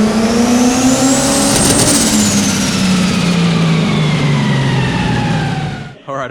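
A 1,000-plus horsepower car engine screams on a dyno in one long, loud, close wide-open pull, pitch climbing then easing back before cutting off abruptly near the end.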